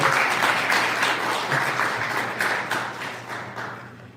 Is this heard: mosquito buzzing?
no